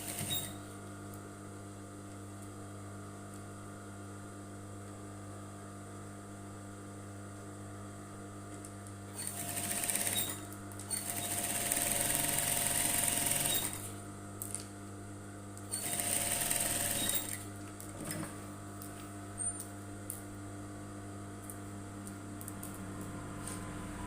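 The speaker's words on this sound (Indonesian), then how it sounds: "Kita jahit ngikutin jelujur bibirnya." A sewing machine stitching along the lip of a welt pocket flap on a women's blazer, a steady mechanical hum that swells into two louder runs of fast stitching partway through.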